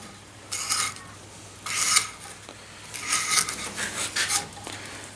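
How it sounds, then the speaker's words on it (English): A file-sharpened knife with a jagged edge saws through rope in a few rough, rasping strokes, close and fairly loud, with short pauses between the bursts. "Let's try cut a piece of rope"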